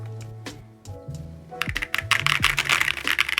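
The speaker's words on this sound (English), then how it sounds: "Now let's type." Typing on a Chosfox Fox 65 custom keyboard, a fast run of dense, close key clacks building up after a quieter opening with a low hum.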